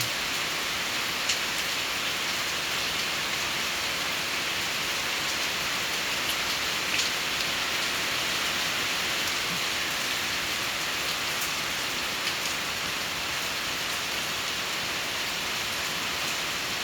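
Heavy rain pours down in Laos, a dense, constant roar of drops on surfaces with occasional louder individual drips, steady and unbroken throughout with no voices.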